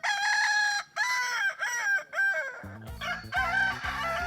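A rooster in a kukuak balengke crowing contest gives long drawn-out crows, close and loud, joined near the end by a steady thumping of drums or rhythmic percussion beneath the calls.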